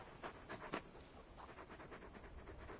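Torgal, the large dog in the video game Final Fantasy XVI, pants quietly in quick rhythmic breaths. The breathing is louder at first, then softer and steady over faint background ambience.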